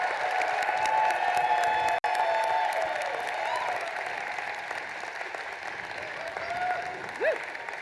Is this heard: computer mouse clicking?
no